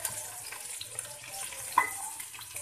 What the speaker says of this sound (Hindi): अब मैं इन सबको भूनूंगी